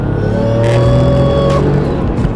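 A loud, close turbocharged Porsche 996 911 Turbo engine roars and strains as it accelerates hard to 60 mph, a steady droning growl with no talking.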